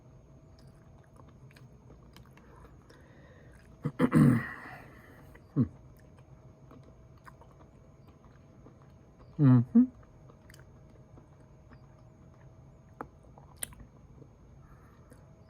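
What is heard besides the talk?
chewing Iberia squid in ink sauce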